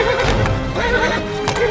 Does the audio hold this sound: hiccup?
no